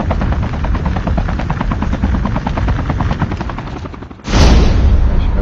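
Helicopter in Call of Duty Battle Royale with a loud, steady rotor thump pulsing throughout. A sharp, louder blast of noise takes over near the end, with no talking.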